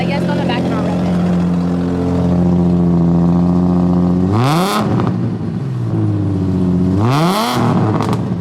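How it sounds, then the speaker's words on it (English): A car engine with an exhaust leak idles with a steady low drone, then revs up sharply twice, each rev rising quickly and dropping back to idle. "I'm gonna rev it, so I guess on the back and I'll rev it."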